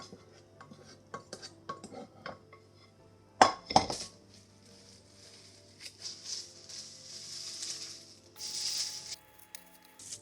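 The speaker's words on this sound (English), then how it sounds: "we're going to add it to the cornflakes and fold it in until they're all coated" A spoon stirring and folding honey-coated cornflakes in a bowl gives scattered scraping clinks and a louder clatter of cutlery against the dish, alone with no voices.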